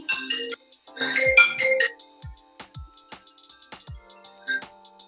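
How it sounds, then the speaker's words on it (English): A mobile phone ringtone plays during an evening yoga class, a fairly quiet melodic run of chirpy electronic notes and trills followed by scattered softer tones and clicks. "so sorry, I thought I had my phone turned off here"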